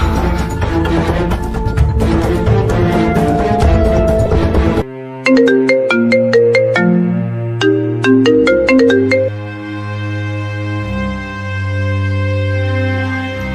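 A phone rings loudly with a melodic electronic ringtone that repeats a bright tune of plucked-sounding notes. Sustained tones follow and then fade, with no talking.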